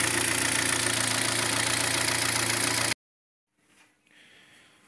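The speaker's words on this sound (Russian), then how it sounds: "Как там мотор тихо работал и как он здесь трещит ужасно." Kia Sportage G4KD engine knocking at idle, a loud, close, steady mechanical clatter with a constant rhythm that cuts off abruptly, followed by near silence and faint background noise.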